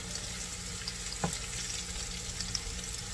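Batagor fish dumplings fry in hot oil, giving a soft, continuous sizzle and crackle up close, with a brief clink partway through and no talking.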